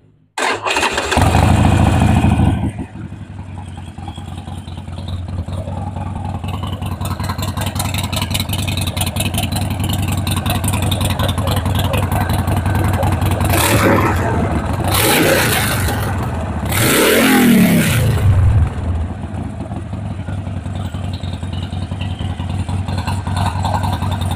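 A Harley-Davidson Sportster 48 bobber engine cranks and catches, settles into a deep rumbling idle, then revs up sharply a few times before dropping back.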